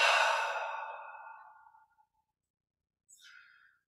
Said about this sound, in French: Et on expire par la bouche.